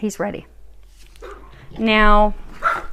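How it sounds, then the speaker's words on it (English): A dog barks in short bursts close by, with a loud harmonic yelp in the middle, while someone talks over and between the barks in a home where a neighbour's party is going on. "So apologies for the mouthy dog."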